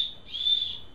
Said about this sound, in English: The sternum strap, though, has a small whistle on it here